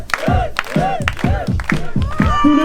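A concert crowd roars and cheers in repeated loud surges, rhythmic shouts rising and falling like chanting, with a sustained tone creeping in near the end.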